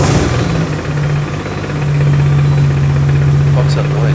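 A car engine runs steadily near the microphone after a gearbox repair, with a low, even idle that settles into a firm drone, and people talk over it.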